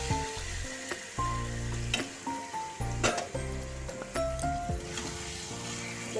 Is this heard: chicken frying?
yes